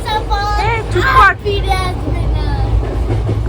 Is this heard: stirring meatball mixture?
no